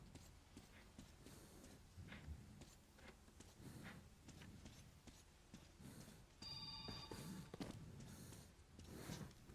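A telephone rings faintly somewhere underground, its short electronic ring rising out of muffled background rumble and rustling late in the sequence.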